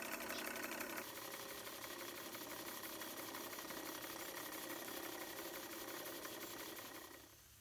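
A small Stuart S50 steam engine driving a small fan runs steadily with a fast, even mechanical chatter and hum, loud and continuous before easing off at the very end.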